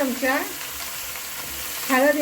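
Steady hiss and crackle of chicken frying in hot oil, with brief bits of a voice talking at the start and end.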